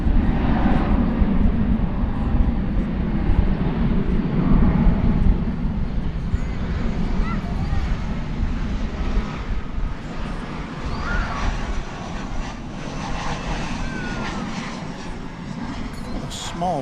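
A small airplane approaches at DFW Airport, its engine drone a steady broad rumble that slowly fades over about seventeen seconds.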